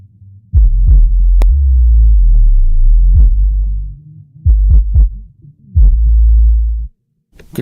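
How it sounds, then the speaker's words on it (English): Controlled distortion on a deep bass synth tone, thick sustained low notes with added harmonics, played in loud separate bursts with sharp transient hits and short gaps of silence between them. "Controlled distortion, adding density, and that creates harmonics that go above that range"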